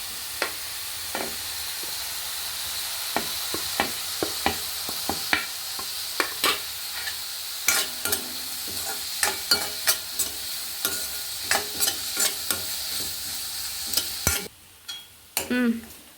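Onions with green and dried chillies frying in a pan for a Telugu bottle gourd and sesame milk curry, a steady loud sizzle broken by repeated spoon scrapes and stirs, then briefly quieter near the end.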